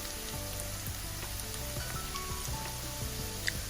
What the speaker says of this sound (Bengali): পেঁয়াজটা এবার খুব ভালোভাবে নেড়ে চেড়ে নিচ্ছি যতক্ষণ না খুব ভালোভাবে সিদ্ধ হচ্ছে